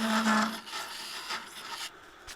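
A blackwood pot spins on a lathe as a tool works it down toward the tenon. Close, rasping scraping comes in short strokes, and a brief whine sounds at the start before the cutting fades into quieter rubbing.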